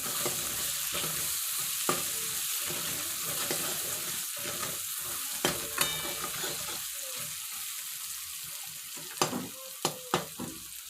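Whole masoor lentil curry with bedgi chili powder stirred in a pan, a continuous close sizzle broken by scraping spoon strokes and a few sharper clinks of utensil against metal.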